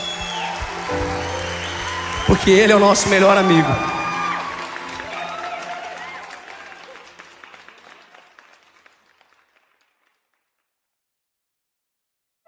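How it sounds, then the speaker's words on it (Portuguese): A live worship concert audience breaks into loud applause with cheering and whoops, rising to a peak before fading out over several seconds, with a speaker's voice heard over the crowd. "aplauda mais forte"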